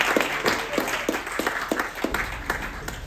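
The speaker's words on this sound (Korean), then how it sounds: "다시 한번 박수 주세요." An audience at a Korean welfare foundation's inauguration ceremony claps in a brief, moderately loud burst of sharp, scattered hand claps.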